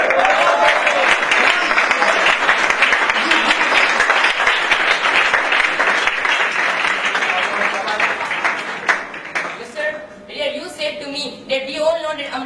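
An audience at a presentation-skills and confidence-building session breaks into loud, sustained applause that roars steadily, then thins into scattered claps as a voice starts speaking near the end.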